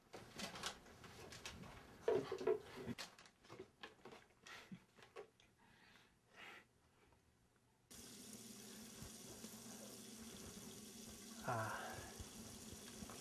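Running shower water pours steadily, with clattering and shuffling in a bathroom early on, then a continuous hiss of spray that fills the rest of the stretch at a low, even level.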